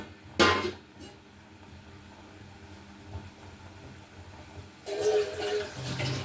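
A browned fried mixture is stirred in a pot as small amounts of water are added, producing a sharp clatter and hiss near the start and another louder, longer burst of splashing sizzle toward the end, with quiet in between.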